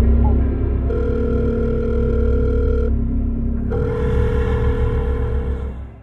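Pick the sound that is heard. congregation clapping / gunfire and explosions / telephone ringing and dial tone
telephone ringing and dial tone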